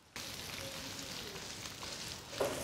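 Sausage sizzles and crackles steadily in a little hot oil in a wok, a soft even frying hiss with a brief louder spatter near the end and no voices.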